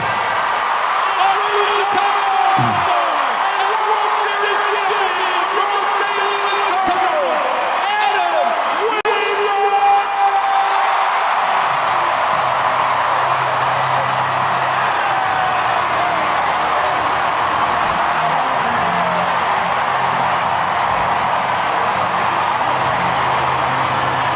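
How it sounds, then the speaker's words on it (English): A full-capacity crowd at Busch Stadium in St. Louis gives Adam Wainwright a long, roaring ovation with whoops and clapping that fills the whole stretch. An announcer's voice rings out over the crowd during the first half. "all you have to do is hear this thunderous ovation that Adam Wainwright got"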